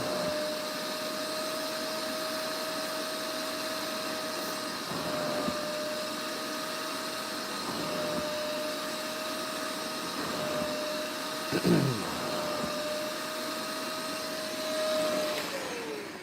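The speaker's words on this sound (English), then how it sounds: "Turn it back on and go for extraction number 1 here." A steady, loud whine of a spot carpet cleaner's vacuum extraction runs throughout, with a few brief gurgling surges as liquid is pulled up.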